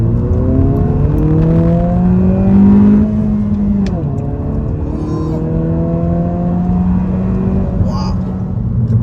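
A 2023 Honda Civic Si engine revs up loudly in second gear, pitch climbing steadily as it accelerates, dips briefly during a shift, then keeps pulling strong under a constant road rumble.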